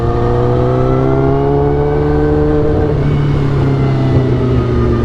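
A 2008 Suzuki GSX-R 1000 sport bike fitted with velocity stacks and suffering a bad clutch idles and revs at low RPM, a steady close engine drone that shifts pitch slightly midway, with no talk.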